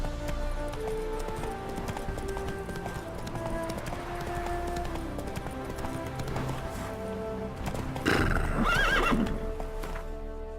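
Roach, the horse in The Witcher 3: Hearts of Stone, trotting with steady clip-clop hoofbeats under game music, then a loud close whinny near the end.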